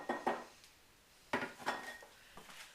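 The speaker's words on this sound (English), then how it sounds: "I'll put it into my little mixing bowl with a little scraper to get as much of this valuable, delicious goo out of here as I can" A small scraper clinks and scrapes against a mixing bowl while a basil and kale mixture is pushed in, giving a few quiet separate knocks and scrapes with pauses between them.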